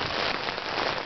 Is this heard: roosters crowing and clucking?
no